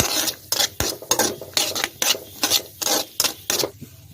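Cashew nuts lightly frying in hot ghee for homemade Bombay halwa, a run of irregular close crackles and clinks as the pieces are stirred around the pan.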